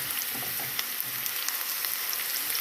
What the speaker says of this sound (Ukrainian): ретельно все обжарюю, помішуємо, щоб нічого в нас не згоріло